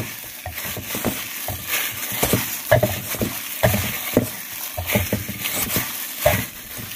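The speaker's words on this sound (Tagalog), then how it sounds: "Haluin na lang ulit." Food being stirred in a pan while it fries, with irregular scraping strokes over a steady sizzle, close and moderately loud, no talking.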